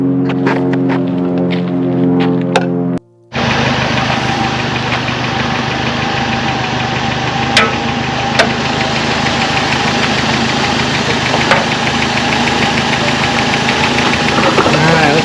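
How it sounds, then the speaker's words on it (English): Turbocharged 22RET engine of a 1987 Toyota Sunrader motorhome idling with a steady, even rumble after a brief cutoff, close and continuous with a few sharp clicks. "Let's fire up the engine and give you a look at the engine bay."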